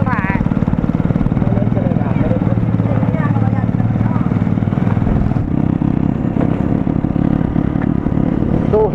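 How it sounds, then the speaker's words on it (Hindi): Motorbike being ridden on a village road on the way to a wedding, its engine droning steadily and loudly up close with wind rumble, while someone talks over it throughout. "अभी हम बाइक ड्राइव कर रहे हैं फिलहाल, आप देख सकते हैं।"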